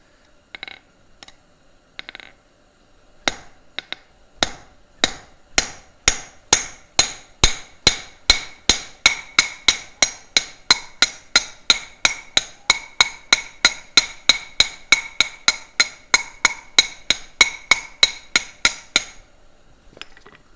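Steady hammer blows on metal rivets shape their heads during a live forging session; a few scattered taps lead into a long, even run of about forty loud, ringing strikes, close by and without talk.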